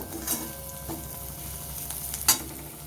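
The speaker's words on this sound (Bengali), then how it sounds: "এক প্লেট খোসা আটা ভেজে দেখো যত ভাজবে তত কমে যাবে জিনিসটা" Bottle gourd peels fry in a pan with a steady, close sizzle, broken by a couple of light spatula stirs, the last one a little louder.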